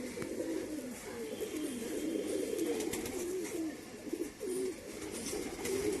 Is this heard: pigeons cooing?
yes